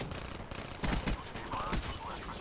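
Gunfire in Call of Duty: Black Ops 3, a few quick shots in a short burst mixed into the game's background noise.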